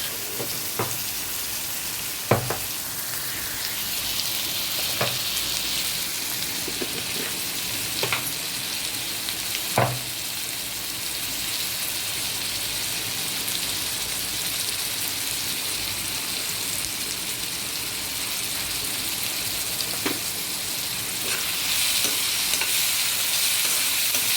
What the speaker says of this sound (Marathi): टमाटरला चांगलं परतून देऊया.